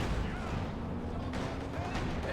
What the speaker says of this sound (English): Sturmpanzer firing away there.